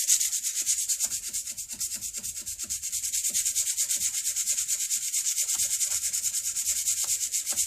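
Steady rhythmic wet sanding on a wooden flintlock shotgun stock, a close, even back-and-forth rubbing with a hissy grit texture that continues without pause.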